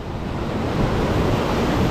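Sea waves wash and churn in a steady broadband rush, mixed with some wind noise, with no voices.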